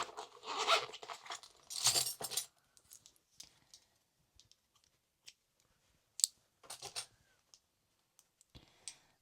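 A few quick snips and small clicks from scissors cutting crochet yarn, close and sharp, after a burst of rustling handling noise at the start.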